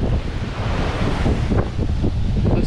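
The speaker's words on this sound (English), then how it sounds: "But these waves are huge." Large ocean waves breaking on a beach at Dumaguete, a loud continuous roar and wash of surf mixed with heavy wind buffeting, no voices.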